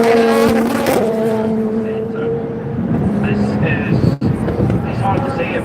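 Race cars roar past on the Daytona circuit during the Rolex 24 endurance race, a prototype among them, with loud engine drone and rising-falling pitch as they sweep by, under a commentator's excited talk.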